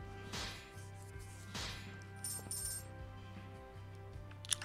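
Coin pickup chime in the One Piece Pirate Warriors 2 game, a short bright metallic ding over steady game music with a few percussive hits, moderately loud.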